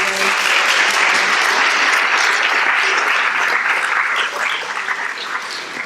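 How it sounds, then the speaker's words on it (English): A school assembly audience claps steadily for about six seconds, a dense, loud wash of hands that tapers slightly near the end, with a faint voice beneath. "let's have another round of applause and welcome for Mr. Morgan"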